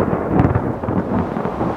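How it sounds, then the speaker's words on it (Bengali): Thunder rolls through a heavy rainstorm on a hillside, a loud continuous low rumble with rough, crackling texture and no gaps, heard alone. "ঠিক তখনই পাহাড়ি ঢালে শুরু হলো তুমুল বৃষ্টি ও বজ্রপাত।"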